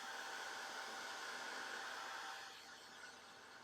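A heat tool blows steadily to dry oxide inks on paper, a loud continuous airy whoosh that holds level, then drops slightly quieter near the end as it moves away or powers down.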